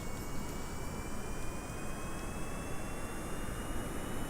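A rocket engine roars steadily in the video game Kerbal Space Program as throttle is added, a dense, constant broadband rumble with a faint rising tone, no voices.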